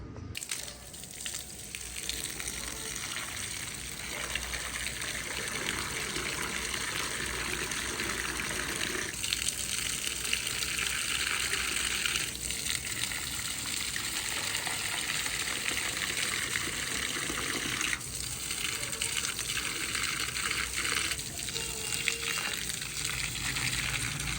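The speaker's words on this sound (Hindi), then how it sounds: "तो मैं ना पानी लगा लूँ पौधों को।" Water runs steadily onto rooftop plants for over twenty seconds, a hissing gush and trickle that shifts in tone as the stream moves, with no talk.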